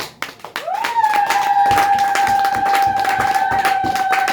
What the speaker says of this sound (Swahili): Hebu mpigie Yesu makofi.